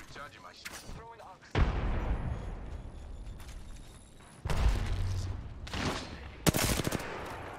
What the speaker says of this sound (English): Go, I'm throwing a nade.